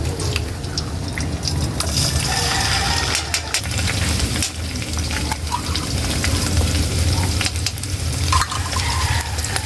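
Corned beef frying in a pan for breakfast, a loud, steady sizzle with wet crackling and bursts of stirring that carries on the whole time, close and with no talking.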